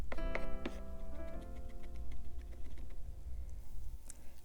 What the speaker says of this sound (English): Cut 5 to 6 cloves of garlic.